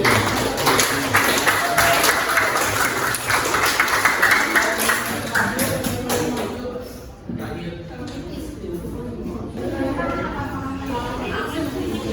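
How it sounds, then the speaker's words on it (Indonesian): A classroom audience claps together for several seconds, a dense patter of hands that fades into chatter and voices talking. "Tepuk tangan"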